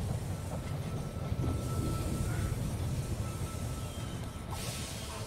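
Rumbling, rattling train sound effect as a train pulls into a station in the video game They Are Billions, a steady low roar throughout with faint clatter above it, no voices.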